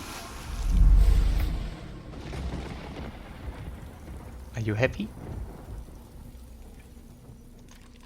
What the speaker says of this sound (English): But we can make it rain.